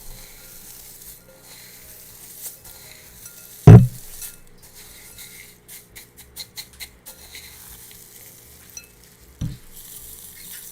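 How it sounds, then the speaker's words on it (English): A homemade garden seed mix being handled and packed up for a seed swap, giving a soft dry rustle with one sharp loud knock, then a quick run of light taps and clicks nearby. "we'll pack up this beautiful seed mix"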